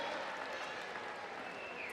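A crowd at a USA BMX national race applauds and cheers from a distance, a faint, steady wash of clapping that carries on evenly with no one speaking over it.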